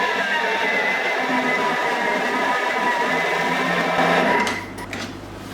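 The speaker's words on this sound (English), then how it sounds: "we will mix this in the machine until it's a nice firm dough" A mixing machine hums steadily and loudly as it kneads dough of flour, butter and sour cream, then the motor drops to a lower whir near the end.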